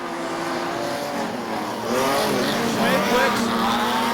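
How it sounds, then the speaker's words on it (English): Holden Commodore modified production race car running rough at a dirt speedway, its engine droning with shifting revs under a race commentator's continuous talk. "Smithwick's Commodore didn't sound very well at all"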